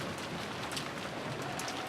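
Steady rain falls on a rose garden, a soft continuous hiss of drops with no voices, evenly spread and moderately quiet throughout.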